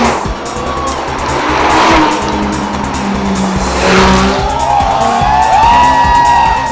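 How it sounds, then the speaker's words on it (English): Powerful supercar engines, V12s, V10s, V8s and flat sixes, roar and scream close by at a car show as they accelerate past, with tires squealing and skidding over a loud, continuous rumble. "Shrieking V12s, screaming V10s, roaring V8s and burbling flat sixes, wowing the crowd."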